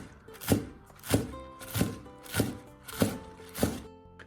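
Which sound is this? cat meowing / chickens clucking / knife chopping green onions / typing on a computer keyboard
knife chopping green onions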